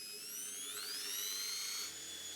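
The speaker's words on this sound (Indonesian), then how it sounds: "Hentikan pekerjaan ketika ujung bor menembus." A drill bores a hole through a wall for split AC pipe, giving off a high, faint, steady whine that rises slightly in pitch before easing off, with no voices.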